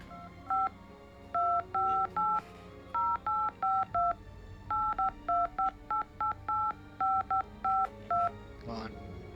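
Phone keypad tones pressed one after another to pick out a halting melody, a long run of short, loud dual-tone beeps in uneven rhythm with brief gaps and faint background voices.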